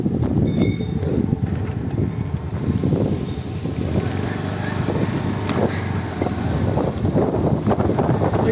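A ride in a vehicle to a land site, with steady engine rumble and wind buffeting on the microphone throughout, loud and close.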